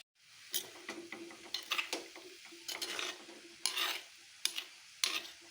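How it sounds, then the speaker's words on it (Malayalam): A spoon scraping and stirring fish peera with pepper powder in a pan, a series of close scrapes and knocks over a faint sizzle, with no talking. "ഇവിടെ ഇപ്പോൾ കുറച്ച് കുരുമുളക് പൊടി ഇട്ട് കൊടുത്തിട്ടുണ്ട് അതിനെ ഒന്ന് മിക്സ് ആക്കണം"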